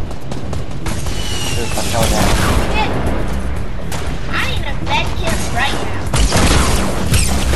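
Golden hand cannon shots in Fortnite, heavy booming gunfire bursts repeating loudly over continuous game noise and mechanical clatter, with players talking over it.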